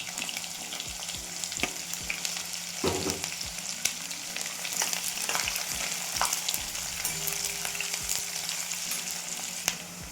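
Chopped onion sizzles in hot oil with mustard seeds and cumin, a continuous close frying hiss punctuated by crackles and occasional spatula scrapes.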